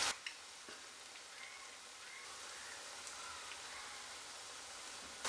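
Papaya vada fries in hot oil, giving a faint, steady, even sizzle with a few small pops, heard alone.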